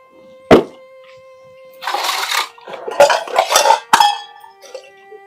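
Household pots and pans being scrubbed and washed, with a sharp metallic clank followed by bursts of loud scraping and rubbing, bright clinks between strokes, close and prominent with no talk.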